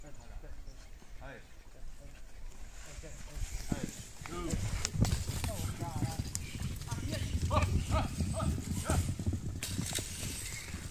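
A horse's hooves clip-clop on the ground during taming work on a farm, a steady irregular patter that grows louder midway, mixed with shouts, rustling and background farm noise.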